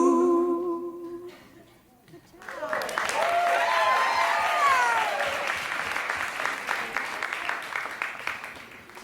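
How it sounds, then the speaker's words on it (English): An a cappella singer's sustained tones open, then after a brief lull an audience bursts into loud clapping mixed with whoops and cheers, lasting several seconds before slowly easing. "Clapping and singing is really hard."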